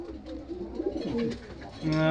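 Large pigeons coo in a big loft divided into compartments, with soft repeated throaty calls nearby over a faint steady background.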